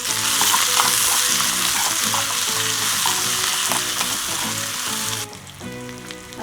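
Onion and garlic fry in ghee in a pan, a loud, close, steady sizzle broken by rhythmic scraping stirs, with no voices heard.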